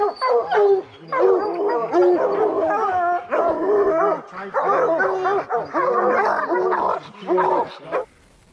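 Bear hounds bay and howl at a treed bear in a rapid series of loud, close barks and drawn-out howls, several dogs overlapping in bursts with short pauses.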